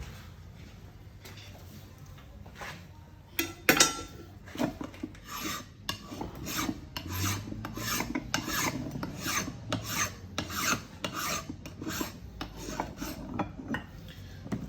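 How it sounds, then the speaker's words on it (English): A metal file rasps across the surface of an old Craftsman bench vise during restoration, with repeated rhythmic strokes, close and clear after a sharp knock, with no talking. "I'm gonna grab a file and clean up this surface."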